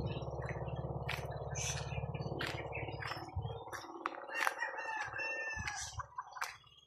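Rooster crowing outdoors among chickens, loud and close, with several drawn-out crows and clucks over a steady low rumble of background noise.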